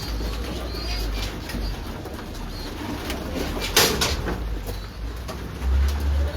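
Breeder pigeons of a Pine and Batista cross coo softly in a loft, with a sharp burst of wing flapping midway and low background rumble throughout.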